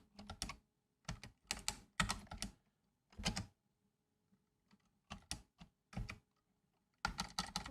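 Computer keyboard typing during a Haskell language server coding livestream: bursts of rapid, close key clicks separated by short pauses, with a longer flurry at the end, no talk over it.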